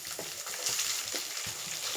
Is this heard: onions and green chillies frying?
yes